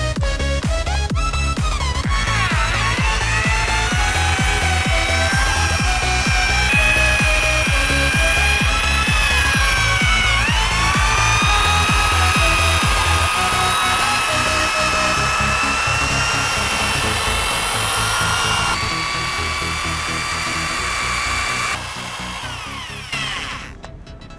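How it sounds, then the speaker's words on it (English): A drill-driven brush whirs steadily while scrubbing cleaner into a fabric car seat, its pitch dipping and rising as pressure changes, loud and close with no talking, then winding down near the end. "Taking the drill now."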